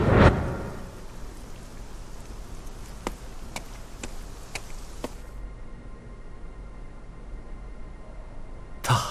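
Steady rain falls in a fantasy drama scene, giving a dense, even hiss broken by a few sharp drop-like ticks. A louder burst comes at the end.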